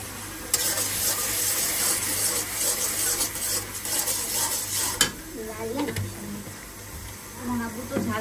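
Fish curry cooking in a pan, stirred with a utensil after the fish has been fried, with scraping, clinks against the pan and a soft sizzle; a voice is briefly heard near the end.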